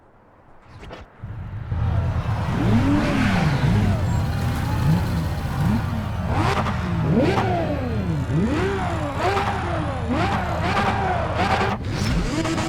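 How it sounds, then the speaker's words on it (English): Stock Toyota Supra and Nissan Skyline R34 GT-R engines racing in a Need for Speed ProStreet mod: engines rev hard with rising and falling pitch through repeated gear shifts, loud and close after a quieter start. "they normally sound the same because it's a stock Supra, it's stock R34 GTR, but we will actually hear that they're different"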